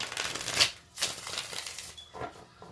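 Tarot cards being shuffled by hand in several quick riffling bursts with short pauses between them, close and moderately loud, with no talking.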